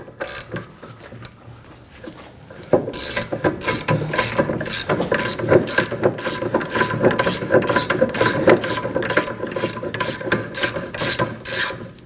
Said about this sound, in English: And now we're going to loosen the bolt.